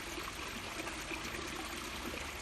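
A river flows at a rural culvert with a continuous soft rushing and trickling wash, steady and fairly faint, with no voices.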